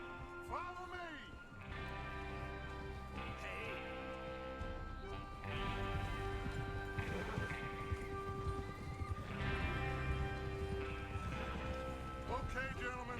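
Horses in the Red Dead Redemption 2 video game move with rhythmic hoof clip-clops under steady in-game speech, with a whinny near the start, all set against soft ambient game sound.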